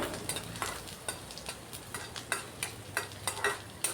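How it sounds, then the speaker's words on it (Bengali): Garlic fries hard in hot oil for a stuffed kakrol (spiny gourd) dish, with a steady sizzle and a regular rhythm of spatula scrapes and stirring strokes close by, no voices. "তাই রসুনটা প্রথমেই দিয়ে দিলাম তেলের মধ্যে। আর রসুনটাকে একটু কড়া করে ভেজে নেব।"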